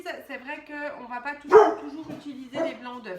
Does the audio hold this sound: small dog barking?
yes